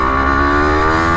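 A motorcycle engine revs in first gear, a steady, loud harmonic drone holding a constant pitch throughout, close to the microphone with no voices.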